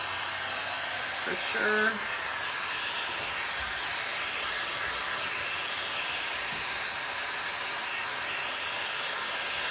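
A hair dryer blows steadily on wet paint coating a wooden knife block, its even, loud whooshing hiss running throughout, with a brief spoken remark early on.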